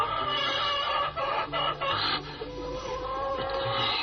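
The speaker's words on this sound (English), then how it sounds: "It could be that chicken is laughing at a very funny joke." A chicken clucks repeatedly and loudly at close range, with bursts of cackling over dense, noisy background sound and no talking.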